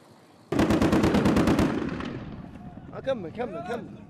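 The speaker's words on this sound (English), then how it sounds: "firing wildly into the air at a target they cannot see" A rapid burst of automatic gunfire shot into the air, about a dozen sharp shots in quick succession, followed by shouting voices as the firing fades.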